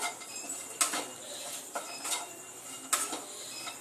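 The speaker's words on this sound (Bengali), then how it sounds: "এবার চিকেন আর আলুগুলোকেও আরও একবার সুন্দরভাবে মিশিয়ে দেব। 2 মিনিটের মতো আরও নাড়াচাড়া দিয়ে ভেজে নেব।" Chicken and potatoes stirred and fried in a pan over a medium gas flame, a spatula clinking and scraping the metal now and then over a soft steady sizzle.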